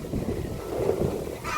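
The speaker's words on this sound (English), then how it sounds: "It's very windy." Wind gusting across an outdoor poultry farm in Ghana, buffeting the microphone in a rumbling, uneven roar with no talk.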